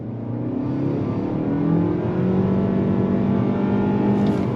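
A 2022 Nissan Altima Midnight Edition's engine pulls hard under throttle on twisty roads, its steady rising drone climbing in pitch as it accelerates, close and loud with no talking.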